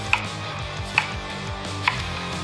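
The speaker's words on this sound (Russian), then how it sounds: "Надо их просто нарезать. Довольно-таки тоненько," Three sharp, evenly spaced knife strokes through eggplant on a cutting board, slicing it thinly at a steady pace, close and clear with no speech.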